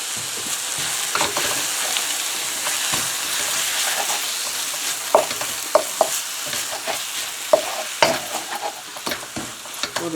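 Eggs frying in a pan with black pepper powder and salt, a steady close sizzle under repeated sharp spatula scrapes and taps that grow busier toward the end.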